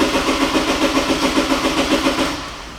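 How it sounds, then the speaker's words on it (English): A car engine cranking without catching, the starter churning in a fast, even rhythmic pulse of about four beats per second, loud and close, fading slightly toward the end, with no talk over it. "when we crank this car"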